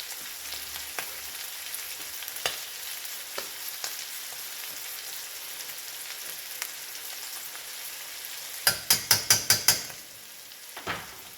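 Beef stew being stirred in a pot, a steady sizzle with occasional utensil scrapes and taps, then a quick burst of five rhythmic metallic knocks near the end, no voices.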